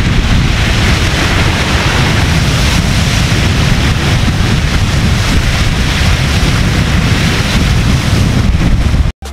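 Sea surf at Bhuigaon beach in Vasai, a continuous loud broadband wash of waves mixed with heavy wind buffeting on the microphone, no voices, cutting off abruptly at the end.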